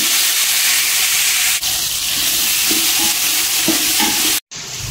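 Tomatoes go into a pan of onions frying for chicken biryani, setting off a loud, close, steady sizzle with stirring scrapes. The sizzle cuts out for a moment near the end, then resumes.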